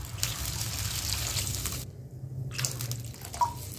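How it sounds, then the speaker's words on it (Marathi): Water poured from a glass into a cooking pot of fried tomato for pithla, a close splashing and trickling pour with a short pause partway through and a few drips near the end. "आपण याच्यात 2-3 ग्लास पाणी टाकू"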